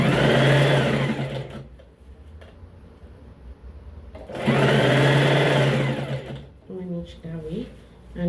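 A sewing machine stitches a lace neckline on an iro and buba garment, running in two loud close whirring bursts separated by a pause, then a shorter stuttering run at the end.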